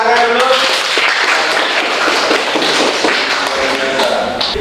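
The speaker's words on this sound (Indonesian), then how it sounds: "silakan tepuk tangan dulu." Students in an informatics class applaud together, giving a steady, dense patter of handclaps that fills the room at close range for several seconds, with faint voices underneath.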